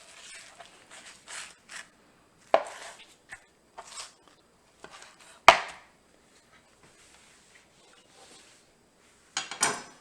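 A knife cuts through soft, wet boiled potatoes on a board for gnocchi, giving a few sharp, separate knocks and taps against quiet pauses, close and fairly loud.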